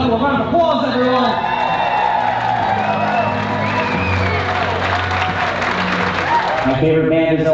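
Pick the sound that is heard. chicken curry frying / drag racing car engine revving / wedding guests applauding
wedding guests applauding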